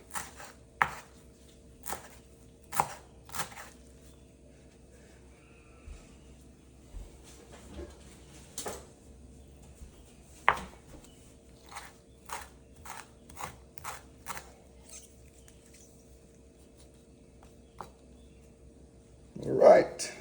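Fresh garden parsley is chopped with a knife on a board in a home kitchen, a string of sharp, close taps in uneven bursts with pauses between, fairly quiet overall.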